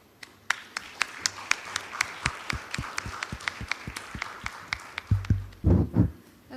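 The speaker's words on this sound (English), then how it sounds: "Please welcome her with a warm round of applause." Sparse, fairly quiet clapping from a small audience at a university research paper competition, welcoming a KOICA presenter to the stage; individual claps stand out rhythmically before a few louder thumps and rustles close the moment.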